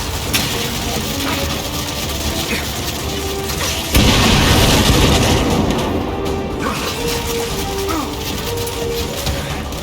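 A frag grenade blows up in the video game Gears of War 5: a loud broadband boom at about four seconds over constant game noise, with voices talking before and after.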